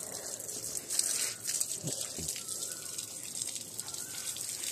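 Water runs in a steady, close gush while a stray dog is bathed, a constant splashing hiss with no voices.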